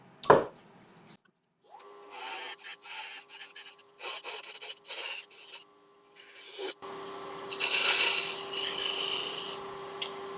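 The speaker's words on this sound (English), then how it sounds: "So now I'm just going to pop a tenon on both sides." On a wood lathe, a tool cuts a tenon on a partly punky blank, giving bursts of scraping and rasping broken by short pauses, then a steadier hum and grind near the end.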